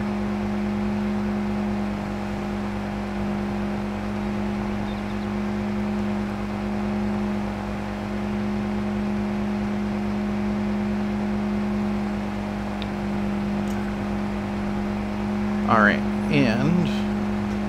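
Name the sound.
vehicle engine while driving in video game Farming Simulator 22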